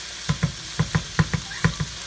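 Cilantro sizzles as it is stirred into a hot pan of chicken pasta, with rhythmic stirring strokes, roughly eight evenly spaced scrapes over a soft, steady frying hiss, close up and without talk.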